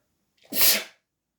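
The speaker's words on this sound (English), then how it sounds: "when I sneeze, usually it's a sign" A single sharp sneeze, close and sudden, in an otherwise quiet moment.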